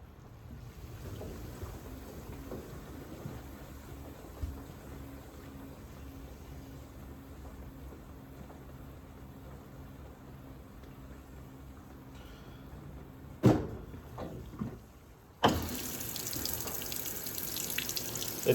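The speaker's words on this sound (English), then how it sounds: "It'll now top off and start sensing the water level with cold water." Cold water streams steadily into a Fisher and Paykel CleanSmart washing machine as it tops off, a continuous watery rush with a few mechanical clunks near the end before the flow grows louder.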